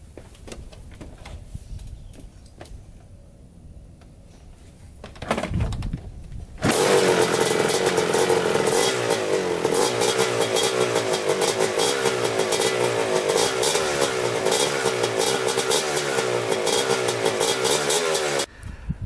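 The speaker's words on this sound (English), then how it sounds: "we're gonna do another startup run at 10 minutes, blipping the throttle" A rebuilt Kawasaki Tecate 250 quad kicks over and then runs loud and close, its engine rattling steadily with repeated throttle blips for about twelve seconds before cutting off.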